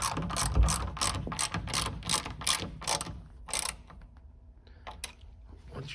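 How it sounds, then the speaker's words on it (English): Ratchet wrench tightening the outer bolts on a 1984–1986 Corvette roof panel, with bursts of rapid clicking pawl strokes repeated in quick succession, close up, then a few scattered clicks near the end. "go ahead and tighten up your outer bolts"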